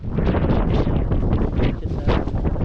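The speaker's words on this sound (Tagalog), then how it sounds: "Grabe ang hangin" Strong wind roars and buffets the microphone in heavy, continuous gusts, loud and close, with no talking.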